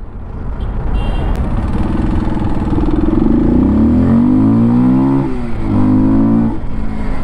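A motorcycle engine revs and pulls through a slow U-turn, its tone climbing and falling in steady waves of throttle, loud and close with no talking.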